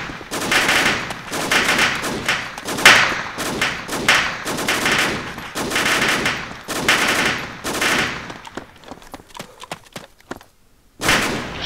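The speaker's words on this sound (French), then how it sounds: "Le coup de feu, ouais." Gunfire in the military shooter game ArmA II comes in loud, dense bursts of rapid automatic shots with short pauses between volleys, and a final burst after a brief lull.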